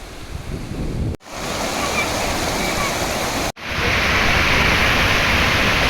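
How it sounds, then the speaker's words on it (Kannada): Water pours steadily at Nipli Falls, a loud, dense, continuous rush heard up close, broken by two brief cuts. "ನೀರು ಹರಿಯೋ ಸೌಂಡು ಗ್ರೀನ್ರಿ ಫಾಲ್ಸು ನೋಡ್ತಾ ಇದ್ದರೆ ಅಲ್ಲಿಂದ ಹೊರಡಕ್ಕೆ ಮನಸ್ಸೇ ಆಗಲ್ಲ"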